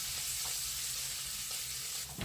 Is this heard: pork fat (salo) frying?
yes